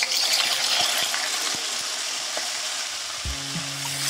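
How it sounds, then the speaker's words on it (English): Wine is poured into a hot pan of garlic mushrooms, which keep up a loud, steady sizzle and crackle close by. A few light taps sound under it, and a brief low gurgle comes near the end, with no voices. "So at this stage, you want to just add a splodge of wine."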